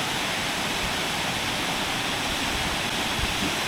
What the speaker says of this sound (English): And that's the waterfall that's